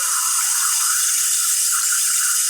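Water dribbles over a bolt beside the water pump of an abandoned 1962 AMC Rambler engine, making a close, steady hissing trickle that runs without a break.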